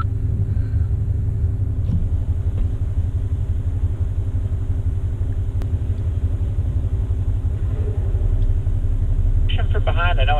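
Off-road vehicle engine rumbling steadily on a trail in Ouray, a continuous low drone held close and loud throughout, with brief higher whine near the end.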